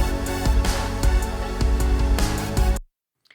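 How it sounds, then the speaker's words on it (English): An instrumental music piece with steady beats and full harmonic texture plays for a few seconds, then cuts off abruptly into silence. "I have this instrumental track here, which sounds like this."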